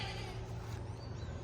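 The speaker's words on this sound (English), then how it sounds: "The goats see me out here and they think it's time to eat." Goats bleat loudly and close by in a farm garden, a dense, overlapping chorus of calls as they expect to be fed.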